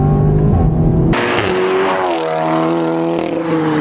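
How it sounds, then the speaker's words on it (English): A straight-piped Audi S3 with a DSG gearbox revs loud and close, its exhaust note rising, then a sudden sharp crackle and shift as the gear changes, followed by a climbing, brassy engine drone. "the S3's got that signature DSG exhaust note change"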